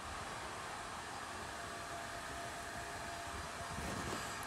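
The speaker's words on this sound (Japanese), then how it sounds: "ドライヤーをかけ始めました" A hair dryer runs steadily in a home, a continuous loud broadband whoosh that holds level throughout with a slight swell near the end and no talk.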